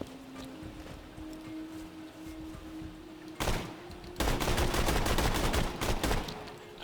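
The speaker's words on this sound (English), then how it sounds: "They seem to be shooting" Gunfire in the video game Borderlands 2, with a loud burst of shots midway followed by sustained rapid fire toward the end, over a low steady game hum.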